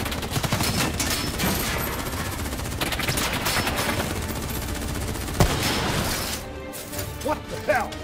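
Heavy gunfire in Call of Duty Black Ops 3, with dense overlapping shots and bursts running throughout and one sharp loud crack partway through. Voices shout under the firing.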